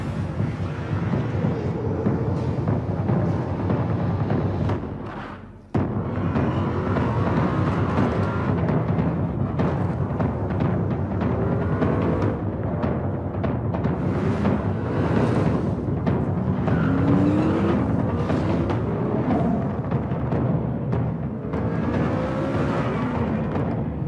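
A Mercedes-AMG GT R laps the Nürburgring, its engine note rising and falling through gear changes beneath heavy, constant wind rush, with a brief dip in the noise partway through.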